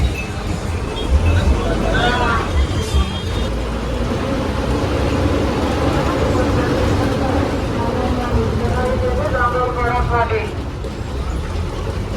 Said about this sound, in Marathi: खोपोली या ठिकाणी गाडी आली असून प्रवाशांची गर्दी बघताय किती मोठ्या प्रमाणात होते